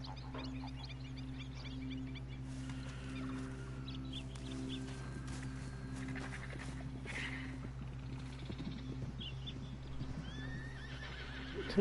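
Horse sounds from the Red Dead Redemption video game, with soft snorts, hoof clops and a whinny over a steady low ambient hum, accompanied by faint bird and chicken-like clucks.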